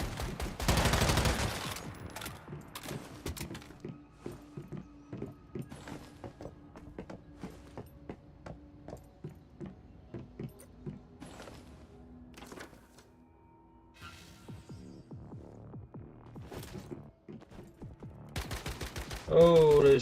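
Gunfire in a shooter video game such as Warzone, quick bursts of shots and rapid machine-gun fire at low level, scattered with pauses, with footsteps and a voice briefly talking.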